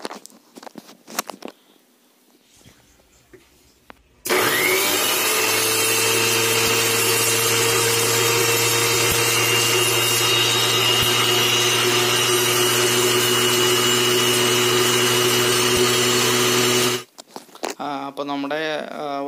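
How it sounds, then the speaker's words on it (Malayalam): A kitchen mixer grinder whirs loudly for about twelve seconds while blending homemade high-protein fish food for betta and guppy, starting and stopping abruptly, with brief handling noises before and after. "നമ്മൾ ഇത് മിക്സിയിലിട്ട് ഒന്ന് കറക്കിയെടുക്കാൻ പോവാണ്"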